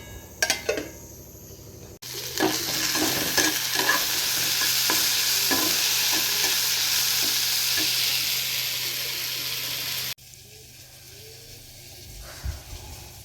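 Okra (bhindi) fries in a pan, a loud steady sizzle with spatula scrapes that starts abruptly after a few quiet knocks and cuts off just as suddenly, leaving faint room noise.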